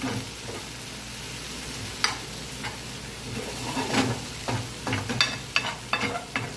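Street-style tawa Maggi cooks with milk on a griddle, sizzling steadily under sharp stirring and scraping strokes that grow busier toward the end.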